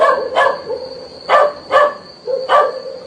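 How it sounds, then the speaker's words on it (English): Dogs give four sharp barks spaced about a second apart, loud and close with no talk. "The dogs don't like her."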